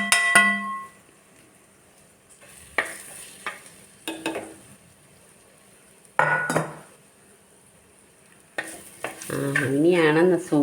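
Chili, coriander and turmeric powder fry in oil in a pan for a homestyle mackerel fish curry. Intermittent spoon scrapes and clinks against the pan punctuate a soft sizzle, which grows louder and steadier toward the end.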